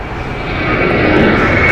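Air France Airbus A350-900 from Paris landing, its engine roar swelling steadily louder as it nears, with a bright sustained whine riding above the broad rumble.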